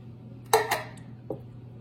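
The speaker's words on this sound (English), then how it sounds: "So I am going to add my 2 cans of tomatoes." Two cans of tomatoes are emptied into a pot of vodka sauce, giving a couple of sharp metallic clinks of can against pot, then a softer knock a moment later, close and alone.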